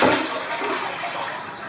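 A toilet with an overflow problem flushes in a bathroom, a loud, continuous rush of water that stays fairly even throughout.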